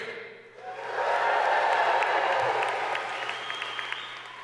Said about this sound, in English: If anyone here today is, I don't know, happy, let me hear a big cheer